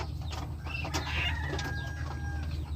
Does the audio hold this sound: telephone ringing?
no